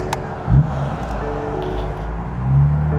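A BMW F82 M4 driving, picked up from a body shop: a low, steady engine and road rumble fills the cabin, with a brief louder swell early on and another rise near the end.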